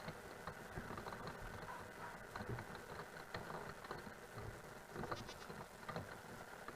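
Faint Minecraft goat bleats rise over a steady low hum and rustling background, a couple of short calls heard at a distance.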